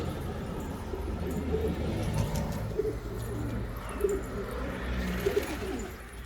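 Pigeons coo in soft, repeated low calls, several birds close by, over a steady background hum with faint chirps and no talking.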